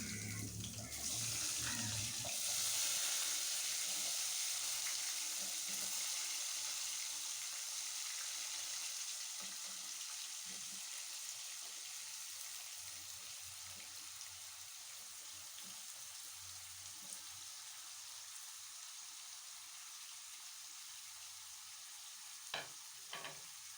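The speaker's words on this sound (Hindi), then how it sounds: "सब्ज़ी डाल देने के बाद हम इसे 5 से 6 मिनट जो है वो भूनेंगे इसे" Chopped potato and bottle gourd hit hot oil in a pan and fry, a loud hiss that settles into a steady sizzle, with occasional spoon scrapes and clinks from stirring.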